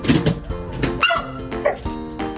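A dog barks and yips several times close by, with short whiny, harmonic calls in quick succession.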